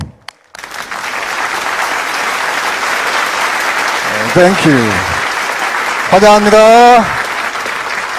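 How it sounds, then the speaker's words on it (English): Audience applause fills a Rally of Hope event hall, steady and sustained throughout while a host speaks words of welcome over it in several languages. "Let us give a big round of applause."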